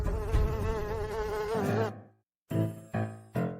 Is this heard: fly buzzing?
yes